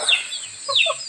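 Native chickens clucking in a short burst of repeated calls, fairly close, with other birds chirping faintly alongside in an open rural yard.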